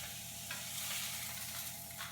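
Meat sears in a hot pan on a stovetop, giving a soft, steady hiss of sizzling fat with a few faint crackles, heard alone.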